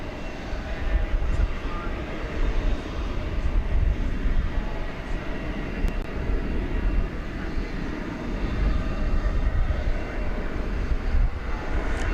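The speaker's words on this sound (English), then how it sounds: "This is flight 1430 going to San Francisco, an Airbus A321 Neo." Airbus A321neo airliner on flight 1430 to San Francisco at DFW Airport, a steady broadband engine roar holding at an even, loud level through the whole stretch with no voices.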